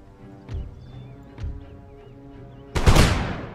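Musket and field-gun fire from colonial-era line battles in the strategy game Empire: Total War, two sharp single reports followed by a loud, sustained ragged volley that fades out.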